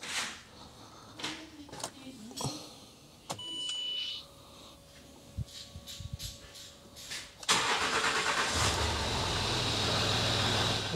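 A rebuilt Range Rover Sport engine, just fitted in an engine swap, cranks and fires after a stretch of clicks and small workshop noises, then catches and settles into a loud, steady running rumble.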